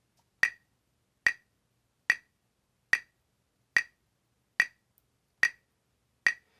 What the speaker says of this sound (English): when we play the metronome in quarter notes in 4/4, we get this sound